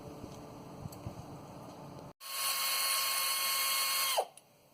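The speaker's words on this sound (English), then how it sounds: "Remove the cap unit here with these 6 small bolts here." A power tool spins out the small bolts on a cap unit of a 1990 Toyota 4WD pickup during a CV axle job, a high steady whine for about two seconds that winds down abruptly, close by, after quieter clicks.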